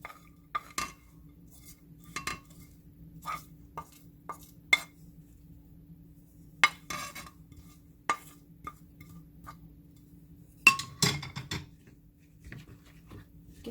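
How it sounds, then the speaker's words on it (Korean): Beaten egg with carrot and chopped ingredients mixed in a bowl gives sparse, sharp clinks and taps of a utensil against the dish, spread irregularly across a quiet background with a brief busier flurry near the end. "섞어줍니다."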